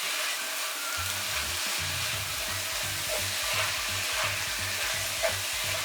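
Pre-roasted anchovies are stir-fried with wilted vegetables in a pan for a Korean chili paste, giving a continuous crackling sizzle broken by regular scraping strokes of a spatula, close by and steady, with no talking.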